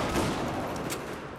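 Rapid pistol fire from an M9 in a Battlefield 4 firefight, dense overlapping shots and battle noise at close range with no pauses, loud throughout.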